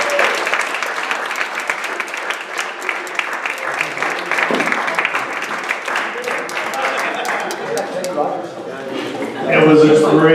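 Dense, continuous clapping from an audience at an end-of-year sports team gala, loud and sustained, thinning toward the end as a voice begins to speak.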